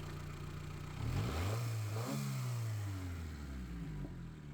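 A Honda CRX engine, just refuelled, revs up from idle and climbs in pitch, then holds and eases down with a rough, mid-toned hum, fairly close with light clatter and no talking.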